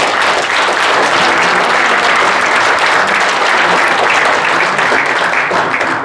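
A loud, dense burst of applause from a crowd at a formal general assembly and inauguration event, continuous and even for the full stretch without speech.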